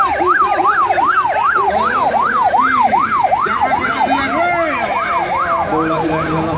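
A loud wailing ambulance siren sweeps rapidly up and down in a steady repeating pattern, close by at a horse race in Central Aceh, over a rumble of traffic and background noise.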